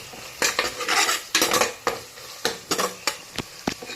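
A spoon stirs spice powder into sautéed tomatoes in a pan for tomato rasam, with repeated close metallic scrapes and clinks over a soft sizzle, in irregular strokes and no talking.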